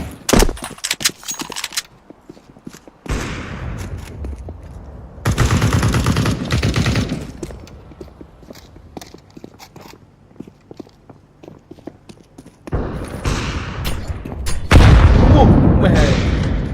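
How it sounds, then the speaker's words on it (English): A flashbang grenade goes off with a heavy, booming blast near the end of a stretch of video game combat, following several bursts of rapid gunfire separated by quieter gaps with footsteps and a voice. "Deploying flashbang."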